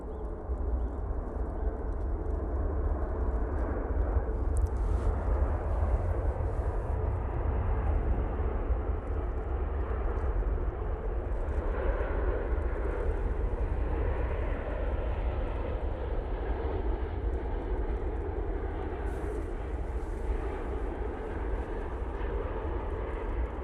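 An airliner touches down at Manchester Airport, a loud, continuous engine roar and rushing wind noise heard from a distance, holding steady throughout with no voices.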